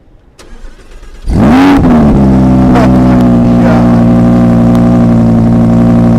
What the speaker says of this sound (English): We're actually going to take a listen to this exhaust.